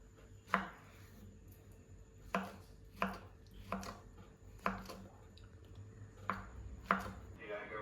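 A knife chops through a banana on a board in about eight sharp, evenly spaced strikes, clear and close with no talk between them.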